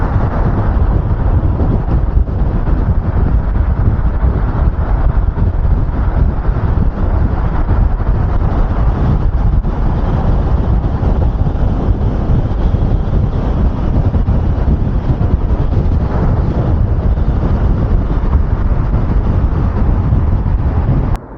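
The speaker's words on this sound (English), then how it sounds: "So much wind right now." Constant, loud wind roar buffets the microphone while riding a dual motor Roadrunner V3 mini bike at speed near 60 mph, with no let-up for the whole stretch.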